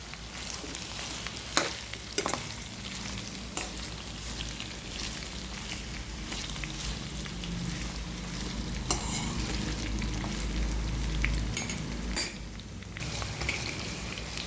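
Onion and bottle gourd pieces fry in a pan for a tamarind stew, a steady low sizzle running throughout with occasional clinks of a utensil against the pan, close and moderately quiet.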